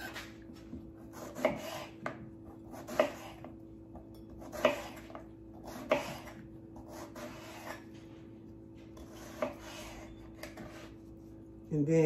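A knife slicing through eggplant on a cutting board, sharp rhythmic cuts arriving at roughly one-second-and-a-half intervals, close and fairly quiet, with a steady background hum.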